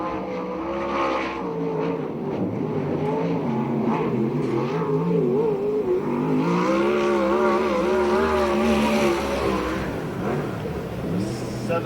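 A USAC/CRA sprint car laps Perris speedway in California, its high-revving engine drones loudly and continuously with rising and falling pitch through the corners, carrying across the track for the whole stretch.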